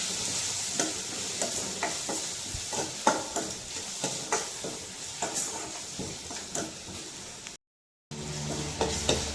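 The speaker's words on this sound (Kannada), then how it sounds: "ಚೆನ್ನಾಗಿ ಫ್ರೈ ಮಾಡಿ." Spices frying in a pan for moong dal curry, a continuous sizzle punctuated by regular stirring scrapes and taps, close and clear, with a short dropout near the end.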